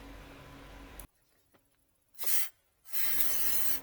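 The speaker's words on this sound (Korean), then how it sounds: "이렇게 WD-40을 조금씩 뿌려놨습니다" WD-40 aerosol sprayed onto damper pulley bolts of a BMW F07 5GT N47 engine: two close hissing bursts, a short one followed by a longer spray after a pause.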